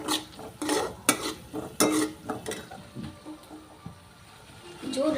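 Ingredients for Schezwan fried rice frying in a pan as a spatula stirs and scrapes them, giving repeated close clattering scrapes over a soft sizzle, with a brief pause near the end before stirring resumes.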